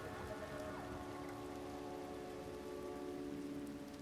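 Steady rain pours and streams down the sides of tall buildings in a dense city, a continuous close hiss of water on hard surfaces with a low urban hum beneath and no voices.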